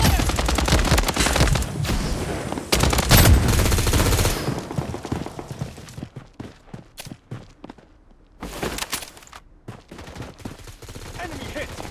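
Rapid bursts of automatic gunfire crack loudly in a Blood Strike Hot Zone match, mixed with footsteps and game voice callouts, then thin out into sparser shots and quieter movement.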